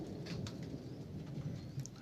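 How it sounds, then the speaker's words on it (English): A thunderstorm heard from inside a leaky shed: a steady wash of rain patters on the roof, with a low, rolling rumble of thunder beneath it. "quite a decent thunderstorm"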